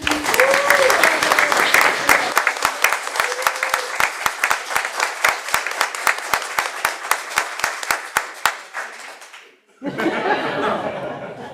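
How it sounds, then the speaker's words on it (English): A room full of people at a city council meeting applauds an award recipient, with steady clapping, scattered laughter and chatter for about ten seconds, then a sharp drop to quieter murmuring at the end. "Let's give him a round of applause."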